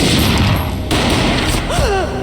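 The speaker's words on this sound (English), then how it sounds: "A gunshot boomed and she fell down in slow motion." Gunfire in the Max Payne video game: a loud booming shot with dense crashing noise, heard close over a thick game soundtrack, with a brief voice-like cry near the end.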